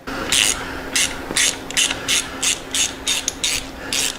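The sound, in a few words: ratchet removing a bolt from a motorcycle frame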